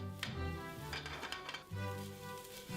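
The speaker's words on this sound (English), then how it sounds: "We give it a stir." A spatula scrapes and clinks against a pan while stirring shallots and mignonette black pepper for steak au poivre, several quick close metallic scrapes and taps over a soft low sizzle, no talk.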